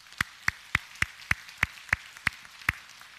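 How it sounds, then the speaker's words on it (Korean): A congregation at a Sunday church service claps in a slow, regular beat, about nine sharp, evenly spaced claps that ring clearly through the hall with no talk over them. "우리 하나님께 영광의 박수 올립시다"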